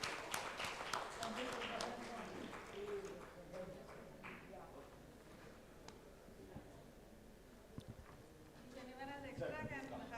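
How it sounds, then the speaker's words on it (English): An audience at a medical conference session on menopause claps for the session's speakers, a burst of scattered hand claps that thins out while a voice talks over it. "I really want everybody to clap for all the four speakers of this session"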